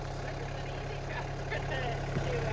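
Yanmar SA425 compact tractor with hydrostatic drive and two-range gearbox running steadily at close range, a constant low engine drone throughout, with voices talking over it.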